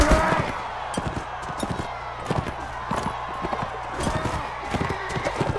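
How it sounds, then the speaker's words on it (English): A horse's hooves clip-clop in a steady, quick gallop rhythm in a video game, close and continuous over a low background bed. "That guy just stabbed his horse."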